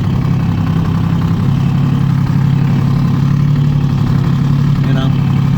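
Toyota two-stroke diesel truck engine running steadily after a cold start, a loud continuous low rumble with an even idle beat throughout and no speech.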